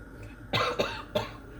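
A woman with a lingering cough gives a few close, harsh coughs in quick succession after a brief quiet moment.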